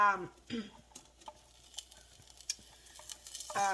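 Onions frying in a hot pan for homemade burritos, stirred with a utensil: scattered scrapes, taps and clicks over a faint sizzle, close up, with a brief snatch of voice at the start and end.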